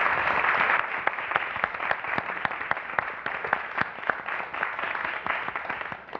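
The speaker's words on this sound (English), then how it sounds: "I'd like us to end with another round of applause for our panelists." Sustained applause from a sizable panel audience, many hands clapping in a dense, steady patter that stays strong throughout, with no voices over it.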